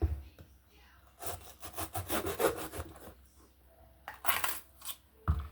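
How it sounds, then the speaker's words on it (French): Knife chopping vegetables for a guinea fowl and rice dish, a run of quick, fairly faint cuts on a board in two bursts, with short pauses between. "Voilà, je vais découper les légumes."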